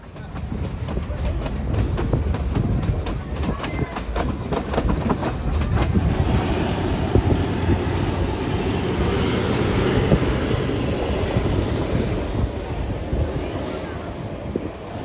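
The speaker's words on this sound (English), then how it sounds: "seeing and hearing the engine up ahead grumbling as it pulls the train up the slight grades" A steady, continuous rumble of a locomotive pulling a train up slight grades on the Great Smoky Mountains Railroad, with a low engine drone and wind buffeting the microphone throughout.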